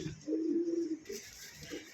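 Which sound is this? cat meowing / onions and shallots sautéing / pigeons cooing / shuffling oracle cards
pigeons cooing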